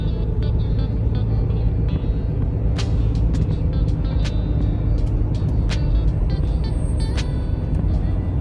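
A car drives on a road toward Alabama. A steady low rumble of engine and tire noise is heard from inside, with scattered sharp clicks and ticks over it and no clear speech.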